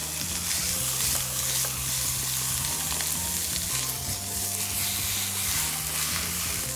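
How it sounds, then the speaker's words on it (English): Bison beef sears and caramelizes in a hot pan, a loud, dense, continuous sizzle with crackling spatter and a faint low hum underneath. "Now all I have left to do is finish caramelizing this beef"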